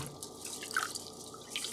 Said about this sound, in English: So we've already put on our water for our rice to boil.